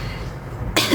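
A single sharp cough bursts out near the end of a quiet stretch of room noise, close and loud.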